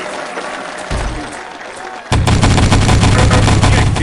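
Dense, loud gunfire from the shooter game Wolfenstein: Enemy Territory, with scattered shots at first, then a sudden sustained rapid burst of automatic fire that continues to the end, heard close up.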